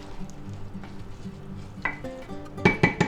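Drained noodles tossed with a little oil in a bowl, giving soft stirring and scraping sounds that build to a few louder clinks of utensil against the bowl near the end.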